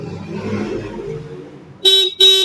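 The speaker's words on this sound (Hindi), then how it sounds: "हॉर्न बज रहा है।" A Honda motorcycle idles briefly, then its horn honks twice in quick succession, loud and close, each blast short and bright.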